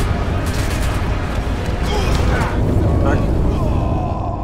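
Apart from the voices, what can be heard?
explosion in video game Sniper Elite V2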